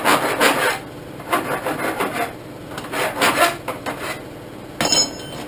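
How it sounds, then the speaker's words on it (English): A hand file deburrs the freshly cut end of steel tubing for a welded railing. Several close, gritty rasping strokes repeat at an even pace, followed by a brief pause and one last stroke, with no talking. "take my file, and I'll deburr it"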